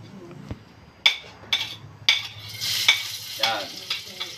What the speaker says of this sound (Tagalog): Ay magigisa na.